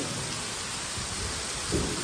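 Heavy rain pours down in a steady, dense roar with a low rumble under it, continuous and fairly close.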